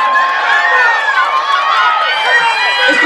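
Crowd cheering and shouting at a boys' 400 m heat of a track meet, a steady, loud wash of many voices and whistles sustained throughout with no pause.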